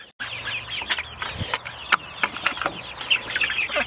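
Meat chickens inside a chicken tractor on grass, a flock clucking and chirping with scattered wing flaps and scratching, close and continuous with no talking.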